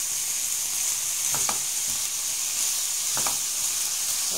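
Blanched bamboo shoots being stir-fried in a pan: a steady, even sizzle throughout, with a couple of brief scraping stirs against the pan.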